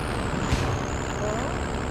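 A military truck in Call of Duty: Modern Warfare rumbles steadily up close, its low engine drone continuous with a brief hiss like an air brake partway through.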